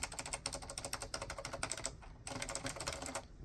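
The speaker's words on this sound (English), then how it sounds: "these have a tendency to click on the upstroke, especially that key" Rapid clacking keystrokes on a Dell AT101w keyboard with Alps switches, dense and close, with a brief pause near the middle before the typing resumes; keys click on the upstroke.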